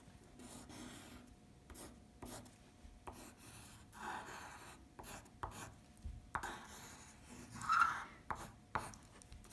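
Pen scratching and rubbing across paper while a fraction diagram is drawn, a faint close-up series of short strokes and scribbles in an irregular rhythm, with no talking.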